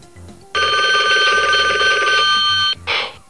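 Loud, close telephone bell ringing in one sustained trill of a couple of seconds after a short quiet lead-in, ending abruptly, followed by a brief noisy burst, with no talk.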